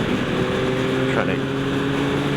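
A 2025 Yamaha MT-09 SP motorcycle engine pulls hard in sixth gear, a steady low droning roar mixed with heavy wind rush and a brief rising swell midway.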